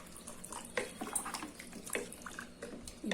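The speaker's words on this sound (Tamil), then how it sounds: "இதில் நான் இன்னும் கொஞ்சம் தண்ணி ஊற்றுறேன்" Water splashes into sambar in a pressure cooker, an uneven run of pouring and splashing with several sharp spills and drips, close and fairly quiet.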